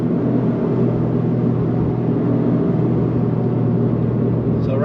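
Toyota GR Corolla fitted with an APEX'i N1 exhaust, pulling hard in third gear from around 4,500 RPM: a loud, steady engine and exhaust drone held continuously throughout, with no pause.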